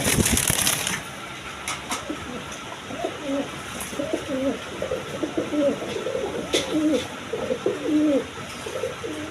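A pair of red Jacobin pigeons coo steadily in a repeated rhythmic pattern, close and moderately loud, with a brief crunchy rustle at the start and no talking.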